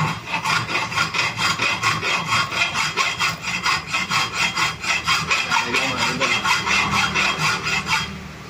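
A hand file scrapes metal in steady back-and-forth strokes, roughly two rasping passes per second, close and loud with no talking, while a Q Honey Badger brace is being made.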